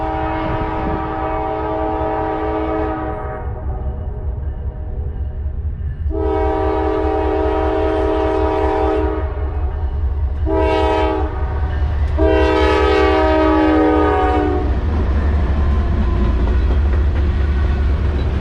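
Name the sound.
Norfolk Southern NS189 general manifest freight train passing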